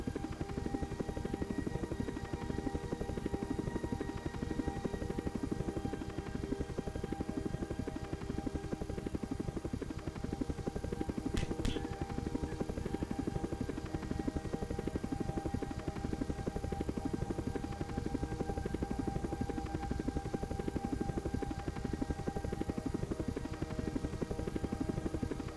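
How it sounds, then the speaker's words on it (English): Continuous helicopter rotor chop and engine whine, steady and loud throughout, with a brief sharp high blip midway. "I love the helicopter sound."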